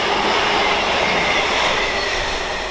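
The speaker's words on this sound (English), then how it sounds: "you've got a network rail stone blower there heading through platform" A Network Rail stone blower rolls through a platform at Tamworth on the West Coast Main Line, a loud close rumble of wheels on track with some squealing, filling the whole moment.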